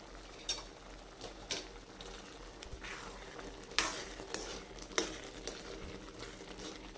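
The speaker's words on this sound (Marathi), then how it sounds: "हे बघा, रगडा छान उकळत आहे." Ragda, a pea curry for papdi chaat, simmers in a pot with a steady low bubbling sizzle, punctuated by a few sharp spoon-and-pot clinks; no one speaks.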